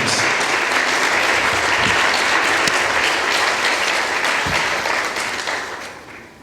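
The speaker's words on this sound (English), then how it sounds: "Let's give another round of applause to all of our 2016 All-Missouri Valley Conference honorable mention selections." Loud, sustained applause from a crowd honoring All-Missouri Valley Conference honorable mention selections at a women's soccer awards reception, many hands clapping steadily before tapering off at the end.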